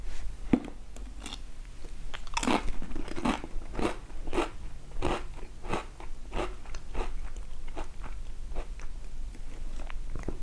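Crunching on Pringles pulled beef flavour crisps, with repeated sharp bites and chewing crunches close to the mic, steady through the whole stretch with no talking.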